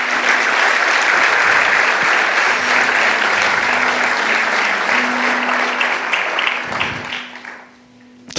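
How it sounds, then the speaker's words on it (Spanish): Church congregation applauding together in a sustained burst of loud clapping that fills the room, then tapers off quickly near the end. "dale un aplauso al Señor"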